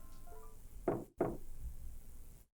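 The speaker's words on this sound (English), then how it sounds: "And then she heard a knock at the door." Two firm knocks on a door in the visual novel Chaos;Child, close and distinct against a quiet ambient game background that fades out afterward.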